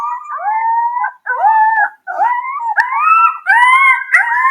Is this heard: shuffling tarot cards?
no